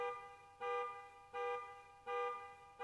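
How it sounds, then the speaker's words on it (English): A car alarm blares in a video game, sounding three evenly spaced loud electronic honks with short gaps between, alone and clear. "A loud blaring of a car alarm"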